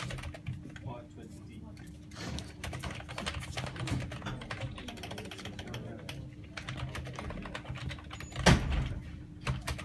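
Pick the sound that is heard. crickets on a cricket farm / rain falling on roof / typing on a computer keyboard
typing on a computer keyboard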